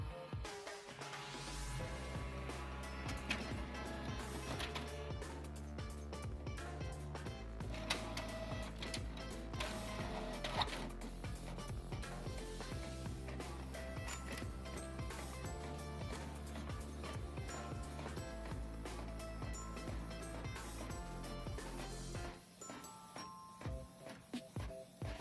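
A Canon Pixma MG5750 inkjet printer scanning after a paper fault repair: a continuous mechanical whir with repeated ticks and clicks from the moving scan head over about twenty-five seconds, close up, with no talk.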